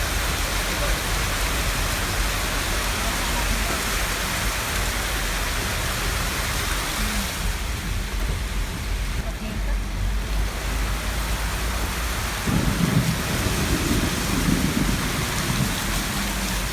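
Heavy tropical rain pours steadily in Davao City during a thunderstorm, a dense close hiss with low rumbling underneath, and voices talk briefly near the end over the downpour.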